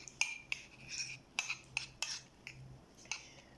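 A metal spoon stirs and scrapes spice paste for Arabic-style roast chicken in a bowl, sharp clinking taps arriving in an irregular series, close and fairly quiet.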